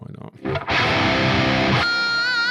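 A heavily distorted, dirty electric tone with added reverb swells into a loud sustained burst, then cuts to a ringing, wavering tail.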